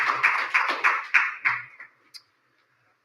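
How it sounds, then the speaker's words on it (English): Audience applause at a city meeting for a police mobile command center funding presentation, a burst of close, dense clapping that swells in rhythmic waves for about two seconds before fading out. "Please give him a round of applause"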